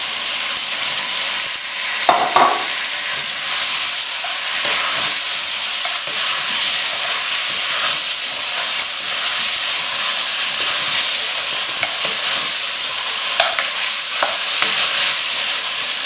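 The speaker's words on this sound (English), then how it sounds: "After a few minutes of stir frying" Steady sizzling and crackling of meat and tomatoes stir-frying in a hot pan for aloo gosht, continuous and close, with occasional scraping stirs and no voices.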